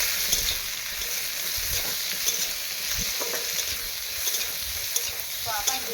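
Shrimp sizzles in a pan of oil while being stirred, a continuous close crackle with occasional scraping clicks and no talking.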